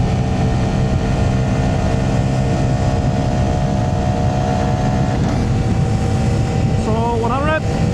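Honda Grom MSX125 motorcycle riding at speed on the German Autobahn, a steady, dense roar of wind and engine drone throughout, with a short rising whine near the end.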